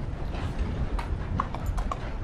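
Horse hooves in Red Dead Redemption 2, a series of quick clip-clop steps at close range over a low ambient rumble, irregular in rhythm.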